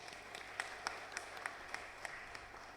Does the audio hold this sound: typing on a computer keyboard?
no